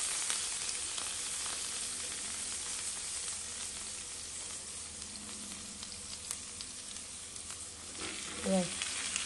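Bangus (milkfish) fries in a pan with a quiet, steady sizzle and crackle, close by and with brief soft stirring or handling noises near the end.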